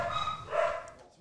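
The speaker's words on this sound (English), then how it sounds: "Oh, guard dogs are out." A guard dog gives a brief pair of barks, one sharp yelp standing out, short and somewhat distant.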